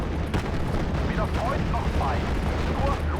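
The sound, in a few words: B2 tank firing at airborne rifles, Steel Division: Normandy 44 video game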